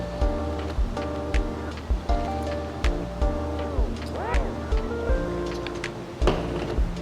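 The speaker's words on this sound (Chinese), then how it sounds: "然后再倒入我的水。" Water is poured into a container to mix a 1:10 engine pre-wash cleaner for car exterior detailing, a steady splashing flow with faint tonal ringing and occasional clinks.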